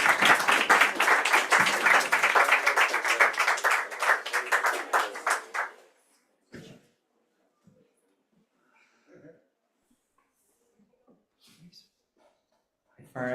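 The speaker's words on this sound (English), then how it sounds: "So big round of applause, big boulabus for Farah Chamma." Audience applause fills the first six seconds as a dense, steady wash of clapping that then cuts off abruptly, followed by near silence with a few faint scattered sounds.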